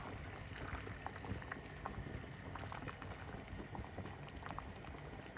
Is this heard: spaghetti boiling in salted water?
yes